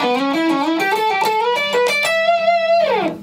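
Electric guitar with distortion plays a pentatonic phrase of sliding and bent notes, moving across the neck before ending on a long sustained note, loud and up close with no talking.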